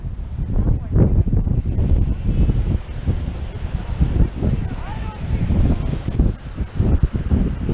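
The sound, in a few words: wind blowing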